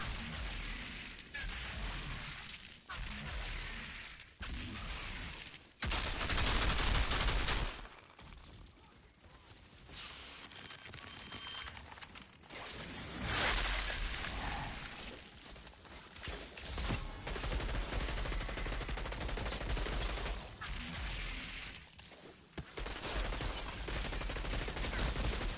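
Sustained automatic gunfire from the video game Outriders during a Technomancer campaign, firing in loud bursts and long volleys across the whole stretch, with brief lulls between fusillades.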